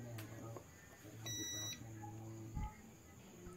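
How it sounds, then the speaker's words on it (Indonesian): Continuity tester buzzer checking a power supply fuse: one short, clear electronic beep of about half a second, faint against a low background hum. "Jika ada bunyi bip, berarti fuse atau sikringnya normal"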